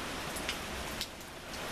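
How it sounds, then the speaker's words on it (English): Steady rain falls outdoors among trees swaying in the wind, a dense continuous hiss of drops with a few slightly louder patters, no voices. "Trees moving in the wind, swaying, rain's coming down."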